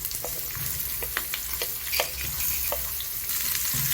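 Onion slices frying in a little oil in a pan, a steady close sizzle with scattered crackles and pops throughout, no voices.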